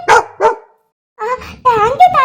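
A cartoon dog barks twice in quick, loud bursts, then after a short pause comes a run of yapping or voiced barks, close and prominent.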